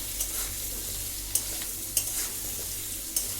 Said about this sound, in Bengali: দিচ্ছি হলুদ, দিয়ে এটাকে আমি একটু মিশিয়ে নিচ্ছি।